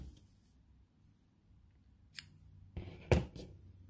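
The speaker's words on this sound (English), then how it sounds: "Cut off the thread." Scissors snip crochet thread at the end of a Christmas tree ornament: a light click and then a sharper close snip amid near silence.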